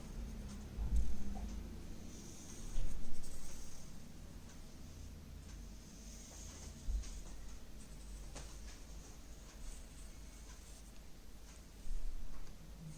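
A pen or pencil drawing on paper, soft scratchy strokes in intermittent bursts with pauses, close and quiet.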